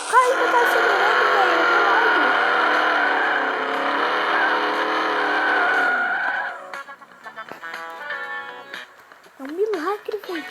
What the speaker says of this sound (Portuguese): O carro ainda tá acelerando